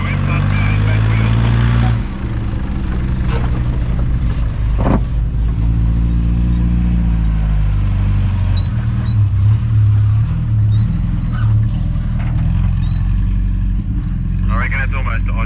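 Honda CRF300 Rally dirt bikes climb a sand dune in the Simpson Desert, their engines droning loudly and revving hard through shifting pitches, with wind and clatter mixed in.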